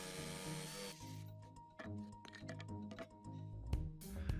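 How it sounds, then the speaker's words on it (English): Power tools cutting wooden braces for a subwoofer box with a drill and jigsaw, heard as a steady near motor whine that stops, then bursts of clattering, knocking cuts and workshop handling noise. "now I'm going to use the drill and jigsaw method to cut out my braces"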